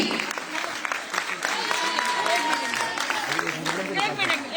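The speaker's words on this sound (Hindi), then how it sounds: "Can we all please put our hands together one more time" Audience applause at a Women's Day celebration, a hall full of people clapping in a lively, uneven patter with sharp individual claps standing out, while a voice briefly carries over the crowd.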